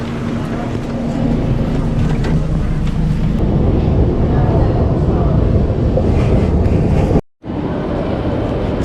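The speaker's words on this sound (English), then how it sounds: "So I'll take this tram to the main station." A tram rolls toward Frankfurt's main station, with a steady loud rumble of the ride throughout, a brief whine early on, and a sudden short dropout near the end before the rolling noise resumes.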